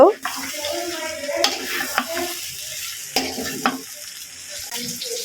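Onion fritters (peyaji) sizzle steadily in hot oil for iftar, with a spoon stirring and scraping through the pan now and then, a continuous close frying hiss under occasional clatter.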